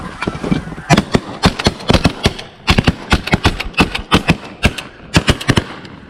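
Shotgun volley while hunting snow geese in Arkansas: a dense run of loud, close blasts from several guns firing in rapid, overlapping succession over about six seconds.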